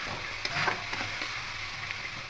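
Sour yogurt spice paste hits a hot frying pan while cooking a spicy fish curry, setting off a steady close sizzle with light stirring scrapes throughout, no talking.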